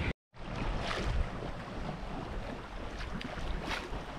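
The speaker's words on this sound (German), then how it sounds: "Wenn es keine Wellen gibt und der Wind aus der richtigen Richtung kommt und die Strömung aus der richtigen Richtung kommt, dann rauscht man einfach nur so dahin" A sailboat glides through the water under wind, its hull rushing with a soft, continuous wash and breezy wind noise on the microphone, fairly quiet and steady after a brief dropout at the start.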